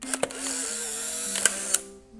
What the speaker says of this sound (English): pressed the shutter button